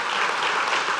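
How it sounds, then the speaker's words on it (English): A large audience claps steadily and densely for Nicholas Negroponte, a continuous wash of applause filling the room with no voices over it. "big applause for Nicholas Negroponte"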